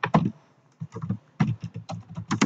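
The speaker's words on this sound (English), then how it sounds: "I can start typing the commands" Fingers type on a computer keyboard, making quick close clusters of clicking keystrokes with short pauses between bursts and no voice over them.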